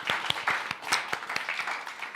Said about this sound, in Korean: 잘 다녀왔다는 감사의 박수 주님께